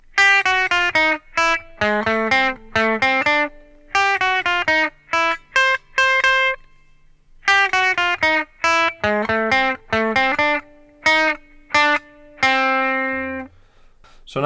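A guitar plays the Super Mario Bros. theme, measures 7 through 14, as a run of crisp plucked notes and short phrases broken by rests. It ends on a long sustained note, close and clear, with the instrument alone.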